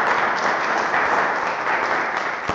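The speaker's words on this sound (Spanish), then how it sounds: "hay que darle un fuerte aplauso a ingeniero" Audience clapping for an engineer after his introduction at a radio astronomy talk at a university science venue, a dense, even burst of applause close by, with no speech over it.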